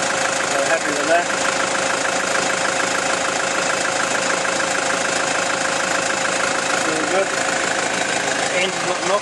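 A 2009 Toyota Prado D4D diesel engine idles close by with a steady, even rumble that holds without change throughout, while a person talks over it.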